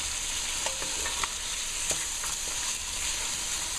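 Ingredients for Multani soup fry and get stirred in a pan, giving a steady close sizzle with light scraping strokes from the stirring throughout.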